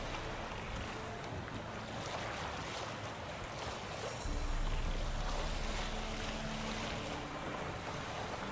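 A sailboat moving across open water in The Witcher 3, with a steady wash of waves and wind noise that swells a little louder about halfway through. No voices.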